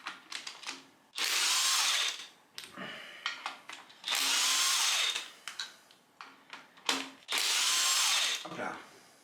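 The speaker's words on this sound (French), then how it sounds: "Donc 4 vis de M10, je m'assure que ma douille est bien rentrée avant d'envoyer la force de desserrage." Power tool with a socket loosening four M10 screws on a car engine, three long loud whirring bursts separated by short clicks and handling noises, close up.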